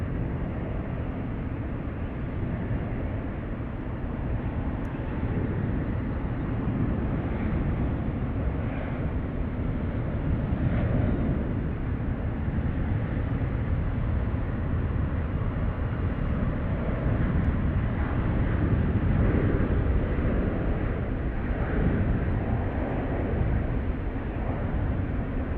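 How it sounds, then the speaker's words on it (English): Jet airliner noise from a Southwest plane arriving on runway 28 at San Francisco International Airport: a steady, broad roar that swells slightly toward the end, heard from a distance without any talk over it. "There's a Southwest arriving right now on the 28th"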